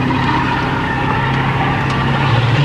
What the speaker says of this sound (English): let you film a couple cars coming down